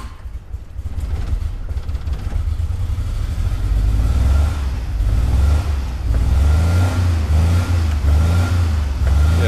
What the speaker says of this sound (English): This time, like trying to restart it with now that the battery is plugged.